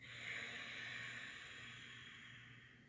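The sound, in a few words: Ujjayi breathing through the nose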